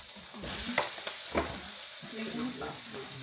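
Lumpia fry in hot oil with a steady sizzle while a utensil stirs and scrapes the pan in a few distinct strokes, close and moderately loud.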